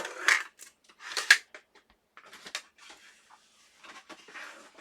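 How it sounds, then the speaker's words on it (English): Westcott titanium non-stick scissors handled at a craft desk, a scatter of light metallic clicks and snips of varying loudness, close by and without talk. "my titanium non-stick scissors. They're Westcott"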